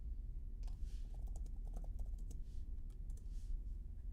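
Fingers typing on a computer keyboard, giving a run of irregular, close clicks and taps over a steady low background rumble.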